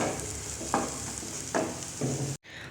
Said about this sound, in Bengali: চলো এটাকে একটুখানি নাড়িয়ে আর একটুখানি আঠা আঠা মতন করে নিই